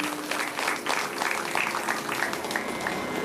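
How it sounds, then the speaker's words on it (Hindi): A crowd applauds steadily at a Ramayan katha gathering, dense continuous clapping filling the hall at an even level for a few seconds. "एक बार जोरदार ताली बजाइए।"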